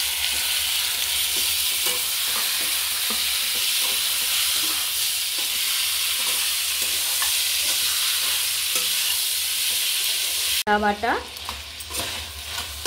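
Chicken pieces fry in a pan with browned onion and garlic paste, a steady loud sizzle with stirring scrapes throughout, then a sharp cut to a brief louder burst near the end.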